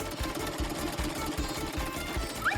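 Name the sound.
sewing machine running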